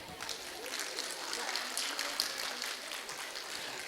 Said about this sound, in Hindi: कुछ कम तालियां हैं।